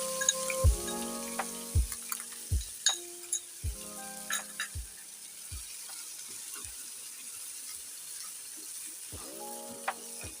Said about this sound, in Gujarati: હવે આમાં ડુંગળી એડ કરીશું, ચપટી હિંગ નાખીશું।